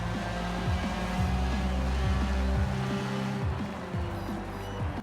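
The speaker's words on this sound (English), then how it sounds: "it's powered by a rotary engine, so you get that fantastic sound from it" A 1973 Mazda RX-3 with a rotary engine in Forza Horizon 4 revs loudly and steadily, its buzzing pitch repeatedly climbing and dropping through shifts with no talking.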